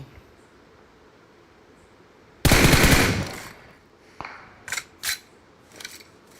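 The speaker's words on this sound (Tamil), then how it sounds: "பின்னால இருந்து ஒருத்தர் அடிக்கிறாங்க" Gunfire in the mobile battle royale game BGMI: one loud sustained burst of automatic fire, then several short, sharper shots spaced over the following seconds, with a quiet background and no talk.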